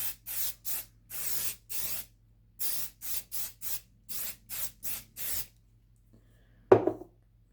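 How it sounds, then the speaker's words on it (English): A series of short aerosol spray bursts of Saphir Renovator leather protector onto leather sneakers, in an uneven rhythm, close by, followed after a pause by a single sharp tap. "take some of the Renovator by Saphir, hold it back, and give it a light spray."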